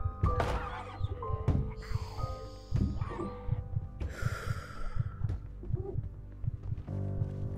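Zombies thumping in Project Zomboid: a steady run of dull, low thuds repeats throughout, mixed with snorting, growling breaths.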